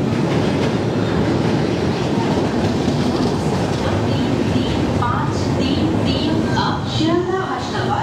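A passenger train pulling out of Dum Dum Junction, Kolkata, rumbles loudly with steady clattering wheels, and brief squeals and clicks rise near the end.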